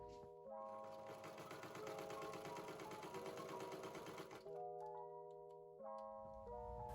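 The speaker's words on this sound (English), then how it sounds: "sew a straight stitch all around the outside edges" A sewing machine runs a straight stitch around a collar's edges, a steady fast rattle lasting about four seconds, then shorter bursts over soft background music.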